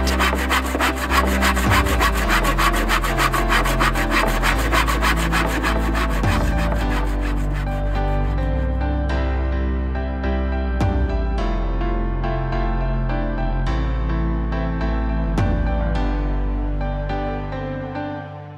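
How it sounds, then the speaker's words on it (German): Rhythmic back-and-forth sawing of wood for a garage build, steady and close, with a handful of sharp knocks scattered through; no voices. "Jetzt beginnt die Sägerei für unsere Garage."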